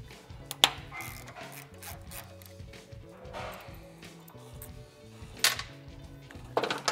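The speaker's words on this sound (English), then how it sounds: "I'm gonna loosen both of these bolts, remove one, install the set screw," A ratchet wrench clicks in quick bursts while loosening bolts on a Harley Dyna during a Sputhe chassis stabilizer kit install, close and crisp with metallic knocks between the strokes.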